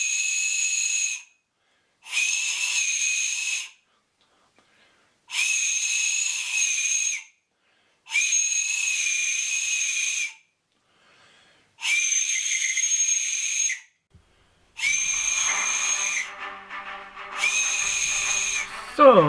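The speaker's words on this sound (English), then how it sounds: "You have to blow in it in the right angle to make it whistle." A shrill, steady whistle from a homemade whistle made of a discarded lighter, blown in repeated bursts of about a second or two, separated by short silences, close and loud.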